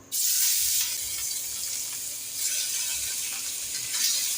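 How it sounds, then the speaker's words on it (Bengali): Rohu fish pieces frying in hot oil for a fish and bottle gourd curry, a steady loud sizzle and hiss that swells again partway through, with no voices. "প্রথমে মাছগুলো তেলে ভেজে নেব।"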